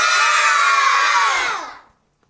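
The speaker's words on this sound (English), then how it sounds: "I think they definitely cheered louder for you, Teddy Winkle." Children cheering and shouting together in a school crowd, a loud sustained roar of voices that fades out quickly into silence after under two seconds.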